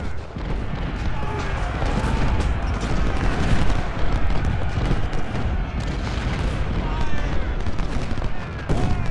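Massed musket volleys and booming artillery in a battle at Stones River in the video game Ultimate General: Civil War, loud, continuous crackling fire with heavy thuds throughout.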